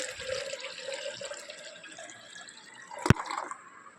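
Water is poured into a lemon, nannari and sabja seed cold drink with a soft, close trickling sound, interrupted by a single sharp knock near the end.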